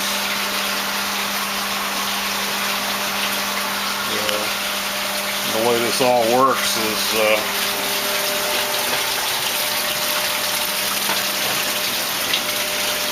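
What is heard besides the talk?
water pumps in fish farm recirculating system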